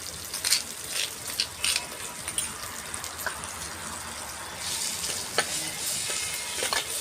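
Pounded green chili paste sizzles in a pan, a steady close frying hiss broken by repeated scraping stirs and spatula clacks, no voices.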